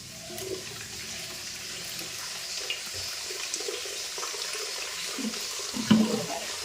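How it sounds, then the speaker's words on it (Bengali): Water gushes steadily into a container in a village home, a continuous rushing flow at moderate level that swells slightly near the end, with no talking. "জল ভরা কমপ্লিট হয়ে গেল"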